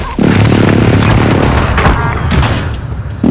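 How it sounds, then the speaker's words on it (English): Airstrike explosions rumble in the video game Warzone, a loud, sustained barrage of booms and crackling blasts that rolls on continuously, close and overwhelming. "Bringing down an airstrike."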